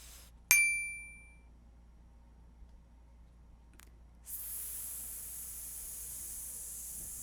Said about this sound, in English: Hold for 6 and then hiss as long as you can.